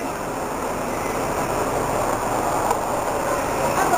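Train near Nantou station at the Checheng old street area by Sun Moon Lake, Taichung region, heard as a steady, broad rumbling roar that holds evenly throughout with no talk.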